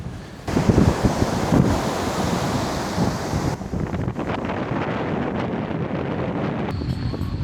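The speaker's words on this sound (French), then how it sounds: "On vient de vesquer la vague." A sea wave breaks on the shore near Marseille: a loud, close, sustained rush of surf that surges in after a brief lull and keeps roaring, with gusting wind buffeting the microphone throughout.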